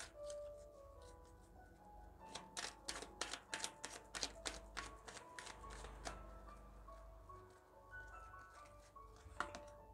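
Tarot cards being shuffled, a burst of quick crisp riffling snaps in the middle amid quieter handling, with soft background music underneath.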